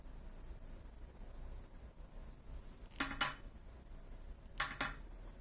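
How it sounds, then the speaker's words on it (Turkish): Two sharp mechanical clicks from a solenoid valve opening and closing for drop photography, each a quick double tick, about a second and a half apart over a steady low hum. "Bu duyduğunuz ses bu valfin iki kez açılıp kapandığını gösteriyor"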